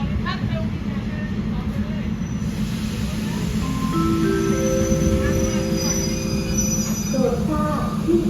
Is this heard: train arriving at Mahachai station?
yes